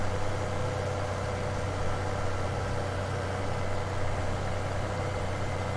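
A tractor engine idles in Farming Simulator 17, a steady low rumble with a constant hum that runs unbroken and fairly loud, with no one talking over it.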